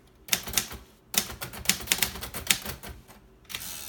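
A 1956 Red Special Edition Royal Quiet De Luxe typewriter clacks through a close, loud run of rapid keystrokes, separated by a couple of short pauses, with the mechanism clattering after each strike and no voices.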